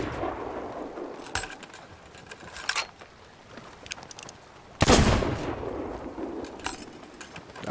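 Gunfire in the pirate video game Sea of Thieves cracks out in a few loud bursts, the strongest near the end, over a noisy background of game ambience.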